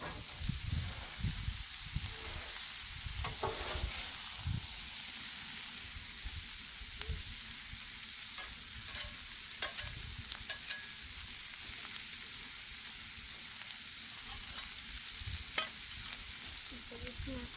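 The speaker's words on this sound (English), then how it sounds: "Just kind of stir it up." Cabbage, sausage and bacon sizzling on a Blackstone griddle while a spatula scrapes and stirs in irregular strokes, a steady frying hiss underneath, close and moderate in level, with no voices.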